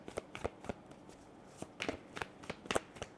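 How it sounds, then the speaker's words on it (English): Tarot cards shuffled in short papery bursts and light slaps, close and quiet, a few clustered riffles spread over about three seconds without speech. "Let's get some cards out and see what they're going on about."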